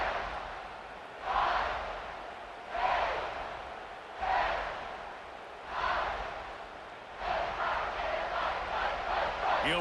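A home crowd in EA Sports College Football 26 cheers in repeated swelling roars, about five rising waves that merge into a sustained loud din toward the end.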